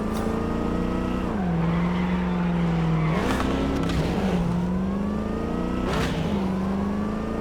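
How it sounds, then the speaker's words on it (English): A car in the video game Cyberpunk 2077 driving abandoned roads, its engine droning and rising through repeated gear shifts, with tire squeals and skids at a few points, steady and close, no talking. "it's fun to drive these abandoned roads"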